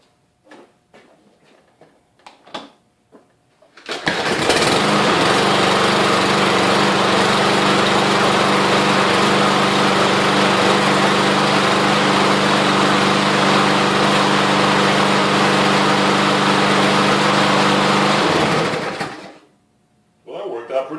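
Troy Bilt lawn mower engine catches and runs steadily for about fifteen seconds, loud and close, then cuts off, with brief clicks and handling noises before it starts.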